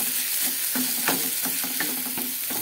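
Ginger paste and spices fry in a pan for egg curry, sizzling steadily while a spoon scrapes and stirs in quick repeated strokes, close up and with no voices.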